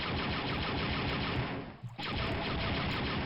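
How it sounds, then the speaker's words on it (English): Interrogator droids in the 1995 game Dark Forces fire a dense, continuous barrage of laser blasts. The loud, crackling stream briefly drops out midway, then resumes. "those interrogator droids seem to shoot some kind of green laser bolt or plasma ball"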